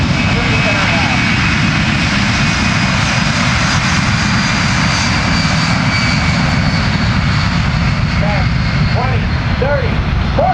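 A C-17 Globemaster's jet engines roar loudly and steadily during takeoff, a dense, continuous blast with a whining high tone. A voice on a public address system talks over the engine noise.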